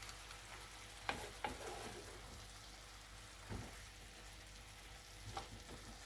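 Sliced zucchini and mushrooms simmering in their own released juices in a pan, a faint low sizzle with a few scattered stirring knocks and scrapes, no talking.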